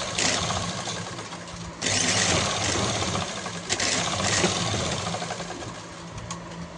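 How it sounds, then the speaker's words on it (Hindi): A sewing machine stitches a salwar seam in a steady, continuous whirring run, pausing briefly near the start and then resuming at the same close, even level. "एक सिलाई हो गई, एक और मारूंगी।"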